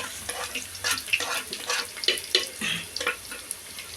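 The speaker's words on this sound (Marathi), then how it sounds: "आता तेल आपलं गरम झालेलं आहे. आपण त्याच्यामध्ये आता कांदा टाकूया. बारीक कट केलेला कांदा." Finely chopped onion hits hot oil in a pot over a wood-fired clay stove, crackling and sizzling in irregular bursts of spitting, fairly faint and close, with no voices.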